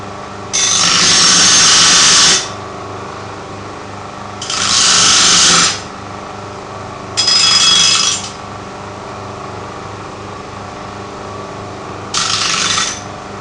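A disc sander deburrs the edges of a metal piece, giving four separate bursts of gritty grinding, the first two lasting about two seconds each and the later ones shorter, loud and close over a steady motor hum.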